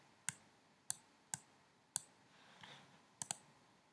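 Computer mouse clicks while reordering page sections in the Pixel Together editor, six quiet, crisp single clicks spaced irregularly, with a quick double click near the end, heard close in an otherwise quiet room.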